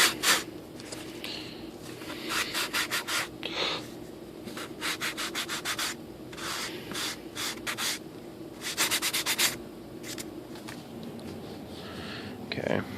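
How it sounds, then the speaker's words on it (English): Hand sanding a rough edge on a foam RC glider control surface during a wing build, quick rhythmic rasping strokes in short bursts with pauses, close and moderately quiet. "So this time I think we can get away with just doing a little bit of sanding"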